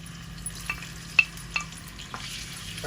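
Shrimp paste with onion, garlic and green chillies fries in oil, a soft continuous sizzle with a few sharp pops and spatters standing out at irregular moments, close and alone.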